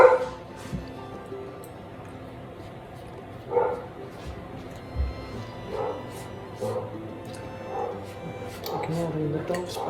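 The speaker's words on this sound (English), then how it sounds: "Ignoring the dogs barking outside." Dogs bark and yip in short, scattered bursts outside, fairly distant and faint, while a kitchen stays otherwise quiet.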